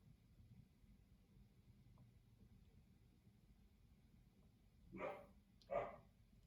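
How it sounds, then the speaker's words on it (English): Two sharp, high puppy barks close together near the end, faint overall, following a few seconds of quiet low background hum. "We just got a new puppy, so you probably just heard him bark."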